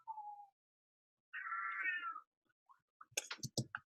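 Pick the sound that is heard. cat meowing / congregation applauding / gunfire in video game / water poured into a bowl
cat meowing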